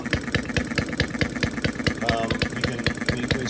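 A small scale Fairbanks Model Z hit and miss engine model runs a little rich, its quick, even firing beats thumping rhythmically close by while someone speaks over it.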